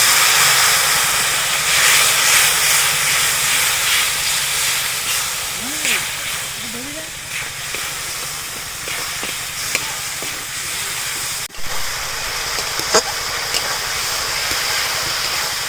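Water poured onto spice paste frying in a pan makes a loud, constant hiss of steam and sizzle that runs the whole time, with faint scrapes and small clicks over it.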